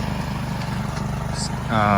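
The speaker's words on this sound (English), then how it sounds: "We are using the world's most amazing lawnmower." A Billy Goat heavy-duty lawnmower that cuts thick stalks runs outdoors on a property, its engine a steady rhythmic mid-pitched drone throughout, with a voice speaking briefly near the end.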